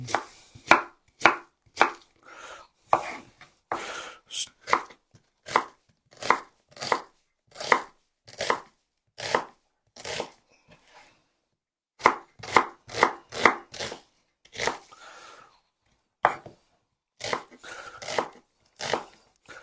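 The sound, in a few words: knife chopping onions thinly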